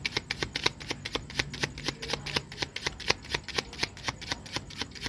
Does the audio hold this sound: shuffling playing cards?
yes